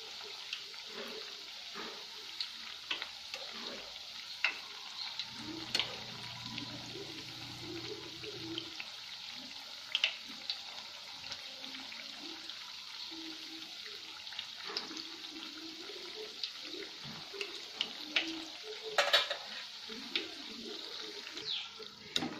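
Chakli, a spiral rice-flour snack, sizzles in hot oil as the frying winds down, giving a steady, fairly quiet crackle with occasional clinks of a spoon turning the pieces.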